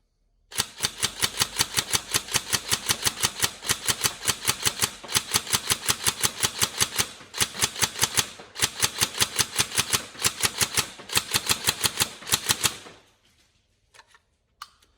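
A Tokyo Marui 416 Delta next-generation electric airsoft gun fires long full-auto bursts at about 15 rounds a second, a loud, rapid, even clatter close to the microphone with brief pauses between strings, then stops and leaves a faint click.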